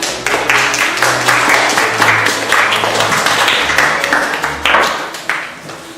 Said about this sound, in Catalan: Un aplaudiment per a nostres actors